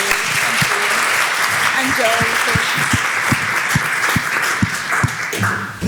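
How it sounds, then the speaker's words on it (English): Audience applause for the panelists at a university funding panel event, a dense, sustained clatter of many hands filling the room, with a voice starting to speak over it. "Another round of applause for them, please."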